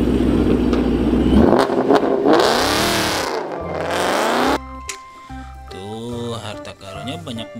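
A toy sedan car plays an engine revving effect, a loud electronic whine that swoops up and down for several seconds before giving way to shorter, warbling tones.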